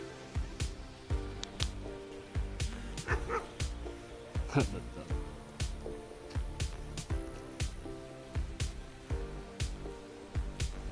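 Dogs, including two German Shepherds, bark and yip repeatedly in irregular bursts nearby on a trail, mixed with thumps and a voice talking over them.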